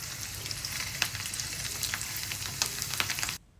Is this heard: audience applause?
no